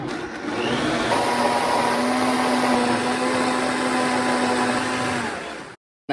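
A blender on low whirs steadily through mushroom soup, a close, loud, continuous motor drone with a faint pitch rise early on, cutting off abruptly just before the end.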